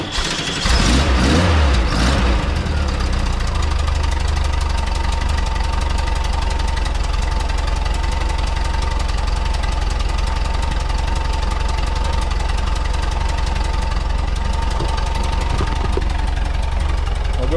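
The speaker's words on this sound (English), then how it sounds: "We'll go ahead and fire it up and let her warm up." A Volkswagen Type 4 engine fitted with dual CB carburetors starts and settles into a steady, loud, close idle as it warms up, a constant low throbbing drone throughout.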